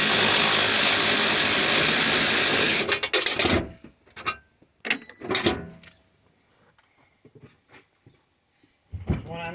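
A small electric wrench runs on the hybrid battery bolts of a 2006 Prius gen 2. It gives a loud, steady whir for about three seconds, then stops and leaves scattered clicks and clatter of parts.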